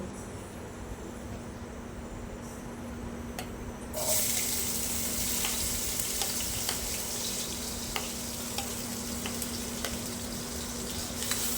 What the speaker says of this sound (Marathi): तेल तापल्यावर त्याच्यानंतर आपण घालायचो एक बारीक चिरलेलो कांदो